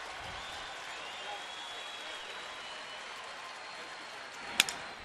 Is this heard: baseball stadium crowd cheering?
yes